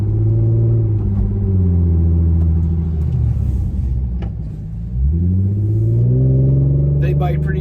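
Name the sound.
Infiniti Q50 car driving while bedding the brakes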